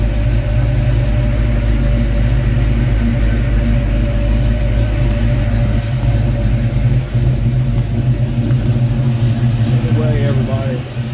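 A 1941 Chevy pickup engine runs steadily after a cold start, a loud, close, even low rumble at idle that barely changes, with some faint background noise near the end.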